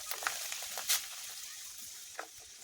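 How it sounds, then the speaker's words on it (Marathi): Maize poha fries in hot oil in a wok over a wood-fired stove, a steady bright sizzle with a few short crackling bursts. "तर अशा प्रकारे मका पोहे तळून घेत आहे."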